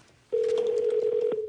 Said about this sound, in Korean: 일단 제가 전화를 해보죠.